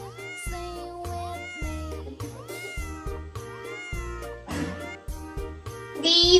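A cat meows repeatedly, clear and close, a series of drawn-out mews with short pauses between them, set over a steady musical backing.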